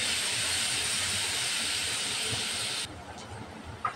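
Chopped onions and sliced chilies fry in hot oil, giving a loud, close, steady sizzling hiss that stops abruptly near the three-second mark and leaves a quieter background with a small clink.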